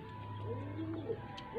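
Soft, low pigeon coos repeat a few times against a quiet background with a faint steady hum.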